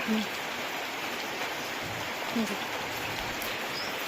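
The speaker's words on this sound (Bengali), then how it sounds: "বৃষ্টি পড়তেছে" Rain falls steadily outdoors as a dense, even hiss of drops on surfaces, with faint bird calls now and then in the background.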